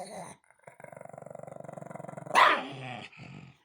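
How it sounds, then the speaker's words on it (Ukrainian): A dog growls steadily in a close, rhythmic rumble while playing alone with a toy, then breaks into a brief louder bark-like snarl near the end, with no talk over it. "Сам собі, сам собі гарчить, сам собі грається."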